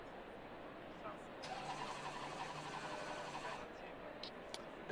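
A GT race car engine cranks and catches in Assetto Corsa Competizione, a GT World Challenge car settling into a steady mid-pitched idle, fairly quiet, with a voice talking over it.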